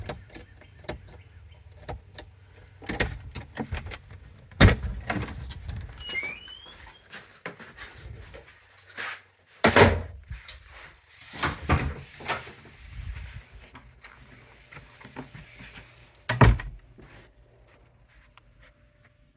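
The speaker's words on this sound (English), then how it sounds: "let's see if I can get us in the door" Keys jingle and a lock clicks at the Bear's Den Hostel, followed by several sharp knocks and thuds as the door is unlocked and pushed open, close by in a quiet indoor space.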